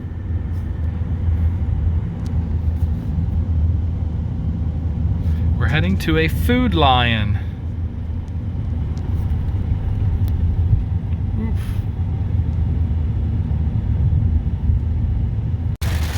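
Steady low road rumble from inside a truck driving on interstate I-70 westbound in very hard rain, a constant engine and tire drone with a person speaking briefly partway through.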